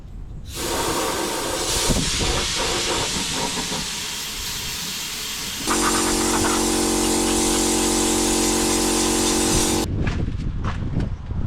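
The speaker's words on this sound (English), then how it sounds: "I got some fluid film and some motor oil. Let's see how she sprays." Fluid film and motor oil undercoating hisses from a spray gun under a Camaro, loud and continuous with a pump-like drone. The sound cuts out briefly, then resumes more steadily and stops near the end.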